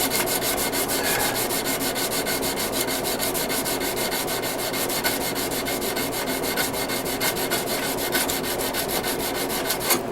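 An 80 grit abrasive rubbing continuously over a knife bolster, a loud, even, gritty rasp with a fast repeating scrub rhythm and no pauses.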